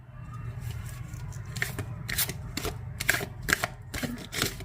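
Tarot cards are shuffled and drawn, making crisp, papery riffles and snaps close by. The bursts come irregularly over a soft background hiss, with no voices.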